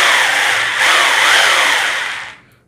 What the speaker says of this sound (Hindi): तो अभी हमने इसको सेट करके रखा है ड्रिल मोड पे